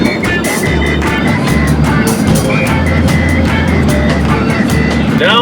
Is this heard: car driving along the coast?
yes